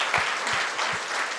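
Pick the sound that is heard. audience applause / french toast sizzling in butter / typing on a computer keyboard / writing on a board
audience applause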